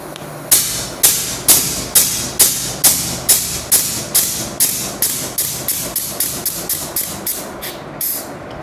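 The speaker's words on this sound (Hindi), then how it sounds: "ये ऐसे शॉर्ट लगती है यहाँ से, जब हैमर आके टकराता है" A Kral Puncher Jumbo .25 PCP air rifle is dry-fired about eighteen times in a steady, quickening rhythm. Each sharp, loud, close hammer strike is followed by a brief hiss of released air.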